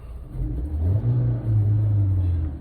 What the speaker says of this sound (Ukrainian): Двигунчик працює тихенько